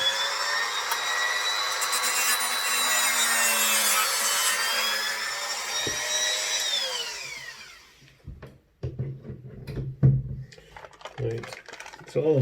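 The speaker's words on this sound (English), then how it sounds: "I've just ground off the wee hooky bit" A multi-tool grinds the coupling hook off an old Hornby LNER model coach held in pliers, a loud high-pitched whine that sags in pitch under load and then stops, followed by clatter and handling noises.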